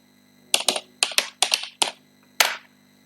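Keys on a computer keyboard are tapped to enter a password, sharp close clicks arriving in quick pairs and singles with short pauses between, ending with one firmer press.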